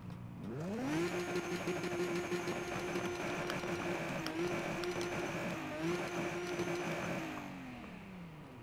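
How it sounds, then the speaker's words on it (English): A car engine in Need For Speed Most Wanted (2012) revs up quickly, then holds a loud, steady droning whine for several seconds with a brief dip before easing off. "Damn, that engine is noisy as hell."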